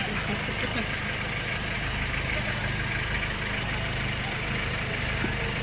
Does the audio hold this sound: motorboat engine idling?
yes